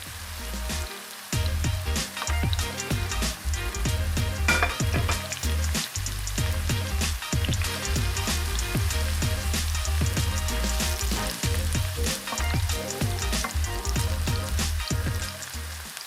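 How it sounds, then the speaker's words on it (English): Chopped red onion fries in a pan with ginger for a Filipino gising gising vegetable dish, a loud, close, continuous crackling sizzle full of rapid pops, lasting unbroken throughout with no talk. "Then add chopped red onion"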